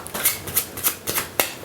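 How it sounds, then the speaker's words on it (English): A pack of playing cards is shuffled during a close-up magic trick. Several quick, crisp riffling bursts come in an uneven rhythm, fairly close and quiet, with no talking. "give the cards in your hand another shuffle"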